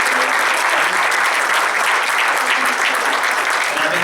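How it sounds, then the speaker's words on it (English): Loud, dense applause fills the hall at a Baltimore public safety town hall meeting, a continuous roar of clapping from a large audience that holds steady throughout. "So give a round of applause to Major Ian Dombrowski on the Southern District."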